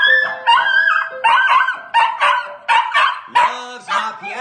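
Oscar, a pet dog, barks, yips and howls again and again at piano playing, sounding near and loud in a choppy, uneven run of vocal bursts.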